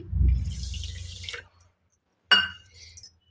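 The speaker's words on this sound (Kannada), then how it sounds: "ಅದಕ್ಕೆ 1 ಮುಕ್ಕಾಲು ಕಪ್ಪಷ್ಟು ನೀರು ಹಾಕ್ಕೊಳ್ಳೋಣ" Water is poured from a cup onto a cupful of sugar for gulab jamun syrup, a bright splashing pour lasting about a second and a half, then a short clink and a second brief pour, with no talking.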